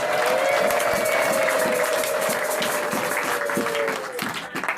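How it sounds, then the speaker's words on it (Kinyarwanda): Church congregation applauding in a sustained wash of clapping with a held tone over it, tapering off near the end. "tugukomeye amashyi menshi"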